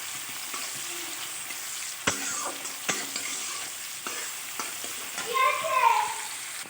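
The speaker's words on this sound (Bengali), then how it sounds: "পেঁয়াজটা একটু নেড়ে চেড়ে তারপরে রসুনটা দেব।" Onion fries and is stirred in a pan for a Bengali prawn and taro-greens dish, giving a steady close sizzle broken by sharp scrapes and clacks of the spatula, with a louder hiss swelling near the end.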